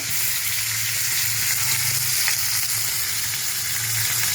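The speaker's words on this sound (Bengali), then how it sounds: "পেঁয়াজ কুচানো দিলাম একটু নাড়াচাড়া নাড়াচাড়া করছি" Chopped onion fries in a pan while being stirred, with a dense, even sizzle up close and a faint low hum underneath throughout.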